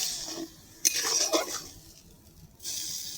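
Okra stirred in a pan with sesame and oil, a spoon scraping and clinking against the metal in a few brief bursts over a soft background sizzle, with no talking.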